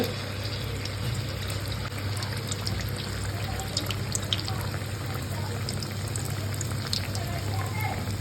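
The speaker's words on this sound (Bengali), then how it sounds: "তেলটা গরম হয়ে যাক, তারপরে এই পিসগুলো বাটারে সরিয়ে ছেড়ে দেওয়া হবে। তেলে ছাড়া হচ্ছে।" Egg snack pieces coated in a rice-flour batter dropped into hot oil, giving a steady, even sizzle and crackle throughout, with speech faintly underneath.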